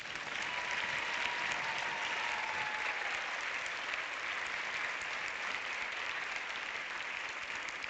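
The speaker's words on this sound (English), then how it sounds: "A big round of applause," Audience applause at a European film award screening welcoming a film director, a dense, steady wash of clapping from a large crowd heard at a distance, continuous and unbroken.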